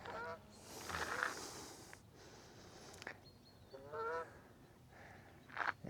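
Several geese honk in short bursts, fairly near, with quiet gaps between calls over a soft background hum.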